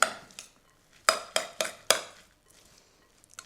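Finely sliced cabbage slaw being tossed and mixed in a bowl, heard as a series of sharp, close clacks and rustles in uneven bursts with quiet gaps between them, and no voices.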